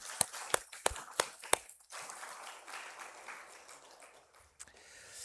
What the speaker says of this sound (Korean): 우리 그냥 들어가면 아쉬우니까 한 번 더 박수하겠습니다.